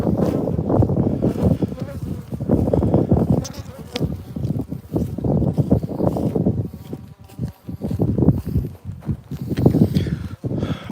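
A cloud of bees buzzes close by on a warm day around hives being fed, the droning rising and falling in waves for several seconds.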